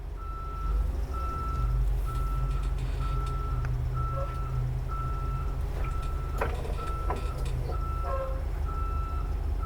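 A bus reversing slowly into a bay sounds a loud, evenly spaced series of reversing beeps over a steady low engine rumble, with a few knocks and hisses in between.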